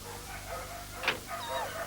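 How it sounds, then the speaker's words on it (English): A faint, brief whimper from a puppy, a soft high-pitched whine rising and falling once or twice in a quiet room. "The quiet whimpering of a puppy."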